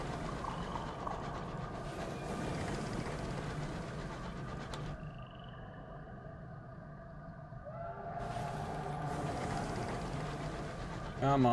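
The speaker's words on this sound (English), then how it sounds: "Come on, it's a choo-choo train." A locomotive in the Sunless Skies video game rumbles and churns continuously with a low, heavy engine drone, the texture shifting midway before the full roar returns, with a person talking over it.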